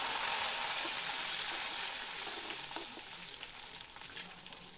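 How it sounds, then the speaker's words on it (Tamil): Cashews and curry leaves sizzle steadily in hot oil for a pongal tempering, a continuous close frying hiss with faint crackles and occasional pops, no voices. "அடுத்து ஒரு கைப்பிடி உடச்ச முந்திரி பருப்பு சேர்த்துக்கலாம் இப்போ ஒரு பொத்து கருவேப்பிலையை போட்டு இப்போ இது எல்லாம் பொரிஞ்சதுக்கப்புறம்"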